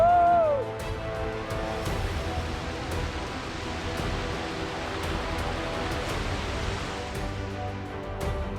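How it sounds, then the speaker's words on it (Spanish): Cascada del Chorro, a waterfall on a mountain route in the Pyrenees, gives off a steady, unbroken broadband roar of falling water that fills the whole stretch at an even level. "La cascada del Chorro."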